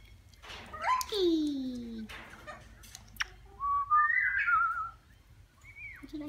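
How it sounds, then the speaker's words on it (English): A pet bird whistles a few rising and falling tonal phrases, close and clear, mixed with brief chirps; a person talks to it in between. "Would you like to do some singing, Rocky boy? You a whistle"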